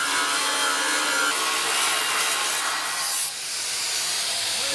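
A weld tack on a boat rudder is cut with a tool, giving a harsh, rasping grind that runs steadily for several seconds and then shifts in tone near the end, loud and close with no speech.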